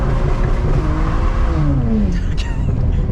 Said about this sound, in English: Dill's just going to try a bit of a acceleration, just see how it handles going through the gears with a loss of traction